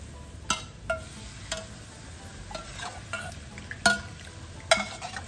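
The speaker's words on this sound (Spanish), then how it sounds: "Y vamos a ir dándole vuelta aquí para que no se nos ponga el grumo y se nos cocine muy bien." Fish stock and milk for croquettes stirred in a pan, a soft sizzle running underneath while a utensil scrapes and taps the pan in irregular strokes, close up with no talking.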